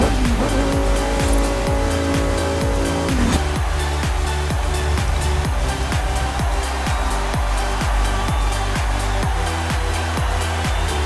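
Race cars roar through an online weekly trial race in Forza Horizon 5, with a loud sustained engine drone, a rapid gear-shift whine early on and a steady rhythmic pulse from the engines and road.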